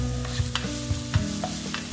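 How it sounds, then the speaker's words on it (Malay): Chopped shallots and garlic sautéing in hot oil, with a steady close sizzle and periodic scraping knocks of a utensil stirring the pan, no voices. "Lepas tu kita akan tumis bawang merah dan bawang putih"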